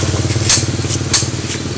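A new motorcycle's engine idles steadily in a workshop, a low rhythmic chugging close by with a few brief hissy bursts over it; the bike has a faulty clutch on its left side.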